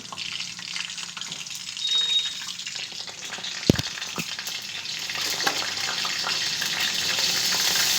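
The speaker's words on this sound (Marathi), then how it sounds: "मी इकडं फोडणी टाकायली" Cumin and mustard seeds sizzling in hot oil for a tempering while potato curry is cooked, a steady close frying hiss throughout with one sharp clatter near the middle.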